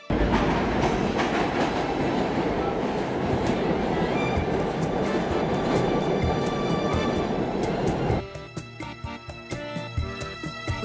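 A commuter train heading from South Orange toward New York City rumbles loudly along the rails with a steady roar and rhythmic clickety-clack, then drops to a lighter, rattling rhythm of wheel clicks.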